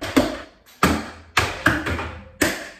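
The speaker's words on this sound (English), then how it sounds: "imagine a bunch of banging and slamming, and here, I'll simulate it for you" Several sharp, separate knocks and bangs sound close by in an uneven rhythm, standing in for noisy bathroom renovation work; no other sound is present.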